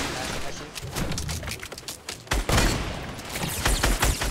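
Rapid Fortnite gunfire crackles and booms in dense bursts throughout, with loud sustained volleys near the end, mixed with faint game noise and no clear talk.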